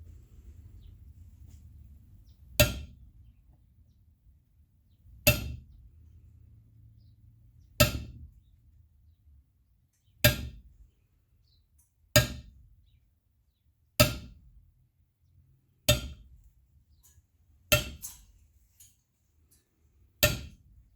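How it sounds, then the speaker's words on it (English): A brass hammer striking an old ball peen hammerhead held on leather for tooling impressions, sounding as eight sharp, evenly spaced metallic taps roughly every two and a half seconds, close and clear with quiet between blows. "It's just an old ball peen hammerhead and a brass hammer."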